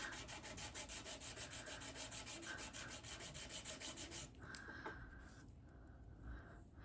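Engraving is buffed out of the sterling silver scales of a Victorinox Classic pocketknife with fast, rhythmic back-and-forth rubbing strokes, close and steady, before easing into a quieter, slower scrubbing with no talk.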